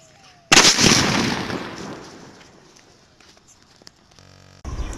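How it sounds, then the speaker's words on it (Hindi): A large sky shot firework is lit and launched outdoors, setting off a loud, sudden roaring burst that fades over a few seconds, then a few faint crackles and another abrupt blast at the end. "अब हम इस ये स्काई शॉट बड़े वाले स्काई शॉट को जला के देखते हैं कैसा चलता है"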